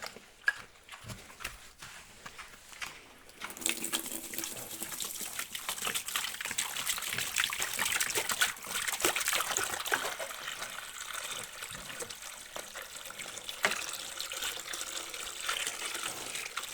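Water splashes and pours steadily for several seconds, close by, as water is given to pigs, with faint pig shuffling and clatter in the background.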